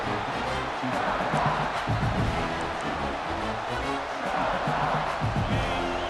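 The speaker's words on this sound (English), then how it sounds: "the crowd coming to life here, trying to help this defense down in the red zone" A stadium crowd cheers in the EA Sports College Football 26 video game as the defense plays in the red zone, a dense, continuous roar of many voices that stays loud and steady throughout, with no distinct speech.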